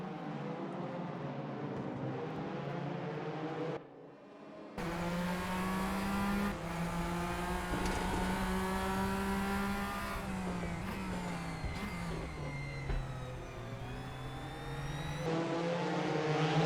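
Porsche race cars at the 24 Hours of Daytona in the RaceRoom game, engines droning loud and steady, pitch rising and shifting through gears as the cars run close together, with no voices.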